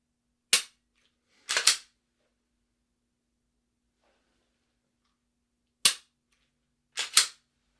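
Four sharp pistol shots ring out, two in quick succession, then a long quiet gap before two more, each loud and close with a short crisp decay.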